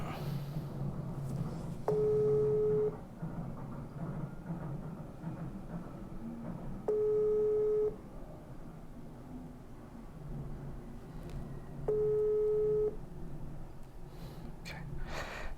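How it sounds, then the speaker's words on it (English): Three evenly spaced bursts of a telephone busy tone, each about a second long and roughly five seconds apart, ring out clearly over a low background hum. "I'm going to make one more phone call"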